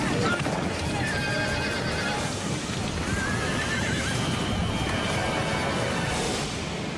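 A pack of racehorses gallops down a riverbank, a dense, continuous thunder of hooves that stays loud throughout, with horses whinnying over the pounding.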